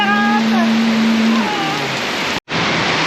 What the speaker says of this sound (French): Quand on mange sous la pluie.